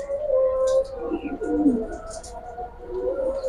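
Pigeons coo repeatedly inside a loft of Pankhi and Silver pigeons, soft low rolling calls overlapping close by, with a few faint higher chirps above.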